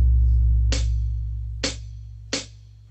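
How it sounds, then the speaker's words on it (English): Three crisp, short closed hi-hat ticks sound at a steady pace over a low, constant hum. "The hi-hat can be closed."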